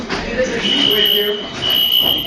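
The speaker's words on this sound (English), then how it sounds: "Okay, guys, fire alarm." A fire alarm in a school classroom sounds a steady, piercing high electronic tone that keeps going throughout, with teacher and students talking loudly underneath it.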